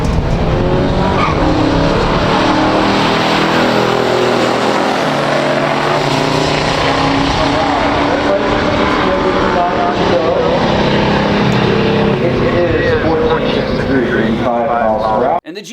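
A 1970 Pontiac GTO with a 455 and a 1968 Chevelle SS 396 launch side by side in a pure stock drag race, their V8s roaring loud and sustained at full throttle before cutting off abruptly at the end.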